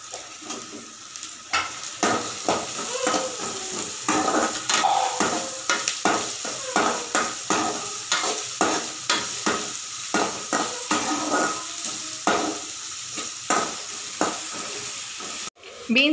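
Green beans and green chillies frying for egg fried rice, a hissing sizzle punctuated by a long regular series of spatula strokes against the pan, close and busy, ending with a sharp clack.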